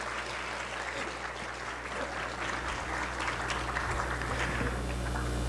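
An audience claps in a university lecture hall to send off a doctor after her talk at an anniversary event of a fisheries faculty, a steady, moderately loud wash of many hands that holds evenly and swells slightly near the end.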